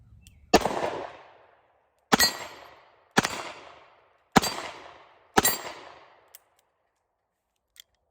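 Five sharp, loud gunshots from a Smith & Wesson Model 60 LadySmith .357 Magnum revolver firing steel-cased Tula ammunition, spaced about a second apart, each with a short decaying echo, then a couple of faint clicks.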